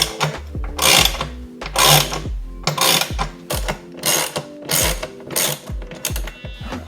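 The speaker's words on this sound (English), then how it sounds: "we'll have to loosen up these 2 bolts just to run that wire through" A T30 bolt is worked loose on a vehicle aux switch mount, with a tool ratcheting in a run of quick, close clicking bursts separated by short pauses.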